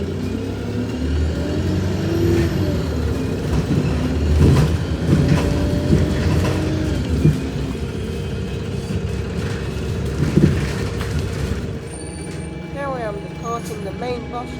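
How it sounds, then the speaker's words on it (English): An old Stagecoach bus drives through Exeter city centre, its engine droning and revving steadily from on board, with someone talking over the running noise throughout. "I'll be taking this bus right across through Exeter city centre to Exeter St David's Railway Station"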